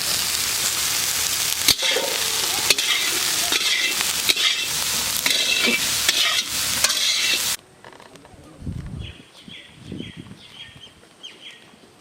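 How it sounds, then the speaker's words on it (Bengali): Soybeans frying with turmeric and salt in a wok hiss in a loud, dense sizzle with sharp stirring scrapes, then cut abruptly to a quiet room where faint bird chirps sound. "তো প্রথমে সয়াবিনটা ভেজে নেব।"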